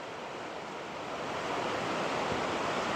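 Churning clear blue-green river water rushes steadily near Stafford Falls on Mt Rainier, a dense, unbroken roar that swells slightly louder toward the end, with no voices.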